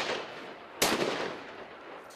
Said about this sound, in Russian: Звучат выстрелы, и медведь больше не подает признаков жизни.